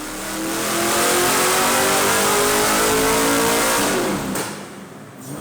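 A loud race car engine revs hard on a dyno and holds at high pitch for several seconds, then drops off abruptly and settles back.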